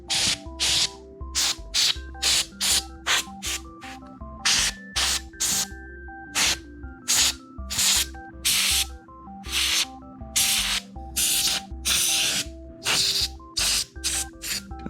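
Compressed air from a can blasts dust out of a Sega Genesis in a rapid series of loud, close hissing spray bursts, each a second or less, separated by short pauses, over a steady low hum.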